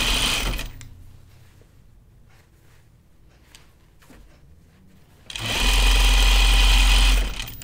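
A sewing machine sews a French seam on jeans in short bursts, with a quiet stretch of fabric handling in the middle and a loud, steady run of stitching near the end.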